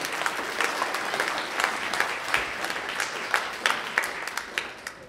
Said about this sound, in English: can I get a round of applause for my volunteers here?